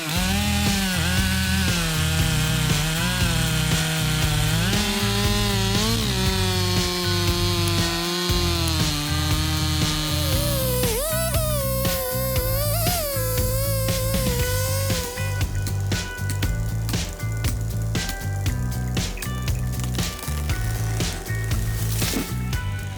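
A chainsaw cutting wood for hand-built wood house construction: the engine whines loud and close, its pitch dropping and rising as the chain bites and bogs, then revving high between cuts.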